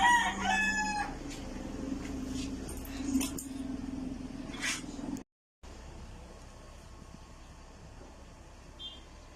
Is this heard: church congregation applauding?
no